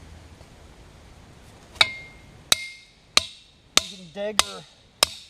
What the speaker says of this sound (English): use a punch like I'm doing